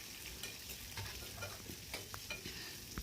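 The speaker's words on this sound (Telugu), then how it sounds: "వేసేసుకొని ఇలాగ ఆనియన్స్ వేసేసి వేగనివ్వండి" Onions frying in hot oil with tempering spices, a steady close sizzle broken by stirring scrapes and clicks, with no talking.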